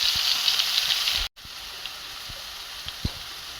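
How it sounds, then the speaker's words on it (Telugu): Onion paste frying in a pan over a very low flame, a steady soft sizzle and hiss that carries on evenly with a brief drop-out partway through. "ఇప్పుడు ఉల్లిపాయ పేస్ట్ చాలా సిమ్లో పెట్టి వేయించుకోవాలండి"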